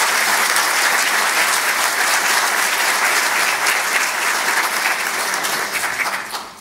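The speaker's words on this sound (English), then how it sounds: "So let's give them a round of applause" Graduates and families at a medical university commencement ceremony in Timisoara give a loud, sustained round of applause from a large crowd, thinning out in the final second.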